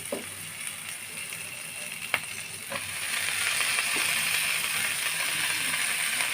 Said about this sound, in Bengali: পেঁয়াজগুলো আমার লাল লাল করে ভাজা হয়ে গেছে এখন আমি এর মধ্যে দিয়ে দিব মটর কলাই শাকগুলো